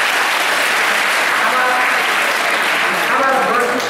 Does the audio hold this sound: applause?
yes